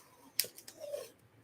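Stubborn washi tape being handled and torn, a short sharp crisp rip followed by a few faint crinkling handling sounds, close and quiet.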